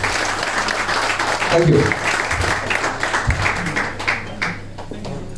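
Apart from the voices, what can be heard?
audience applause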